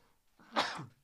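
A single short sneeze, a quick intake followed by a sharp burst, fairly quiet and close.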